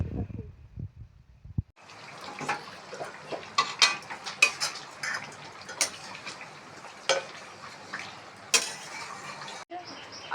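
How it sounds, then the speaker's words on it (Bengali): Meat is stirred into spices in a pan, giving a steady sizzle with clinks and scrapes of a utensil against the metal, close up, after a brief snatch of voice at the start. "মাংস দিচ্ছি মশলার মধ্যে।"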